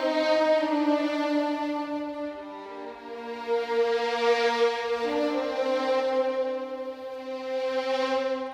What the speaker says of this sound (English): So those were violins 1.